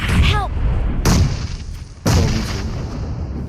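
Bomb explosions in PUBG Mobile, two heavy booming blasts about a second apart, each with a long rumbling decay under dense game noise, while players talk.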